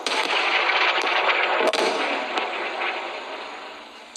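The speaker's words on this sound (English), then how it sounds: "the sky lit up once again as the missile defense system shot Hamas rockets out of the sky" Missile defense system intercepting Hamas rockets over the Gaza border at night: a loud, continuous roaring rumble broken by sharp cracks and bangs, slowly easing off toward the end.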